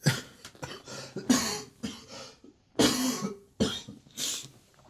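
A run of harsh, wet coughs in several bursts across a few seconds, close and fairly loud, with brief pauses between fits.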